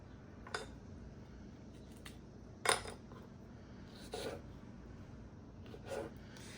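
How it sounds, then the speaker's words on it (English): Knife slicing fresh garden strawberries into bite-sized pieces: a few faint, sparse taps and soft cuts against a cutting board, spaced a second or more apart over a quiet room hush. "then just slice it into bite-sized pieces like this"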